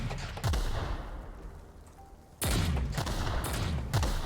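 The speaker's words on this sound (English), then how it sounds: "Yo, that's a grenade launcher." Grenade launcher fire in The Outer Worlds, a few loud booming shots with sharp onsets spaced about a second apart, each trailing into a rumbling tail, with no voices.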